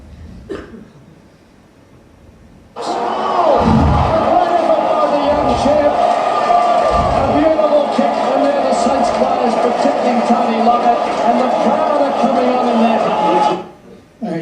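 Large crowd at an Australian football match in St. Kilda colours, a loud, sustained roar and murmur filling the stands from about three seconds in and holding steady for roughly ten seconds before dropping away.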